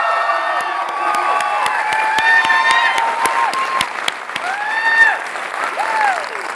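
A live audience at a Glee fan evening applauds and cheers loudly, sustained dense clapping mixed with excited whoops and high-pitched shouts throughout.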